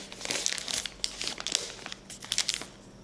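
A plastic bag crinkles and crackles in sharp, close bursts as it is pinched and fastened shut with a plastic clip in a home kitchen, the rustling coming in quick irregular handfuls with no talking.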